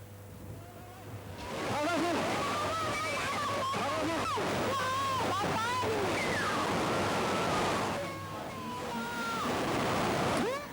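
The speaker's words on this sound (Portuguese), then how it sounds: "ondas mais baixas, como estas que foram registadas noutros dos locais de impacto do tsunami" Tsunami waves wash ashore on the coast of Thailand as a broad, steady roar of surging water, with shouting voices and cries layered over it.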